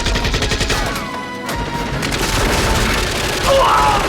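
Gunfire and explosions in an action battle as Rambo carries a boy over his shoulder and shoots one-handed; dense, loud booms and shots fill the scene over a steady roar, with a voice briefly heard among them.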